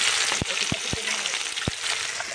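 Fish sizzles in a pan in a home kitchen, a steady bright hiss of frying punctuated by a few sharp knocks of a utensil against the pan.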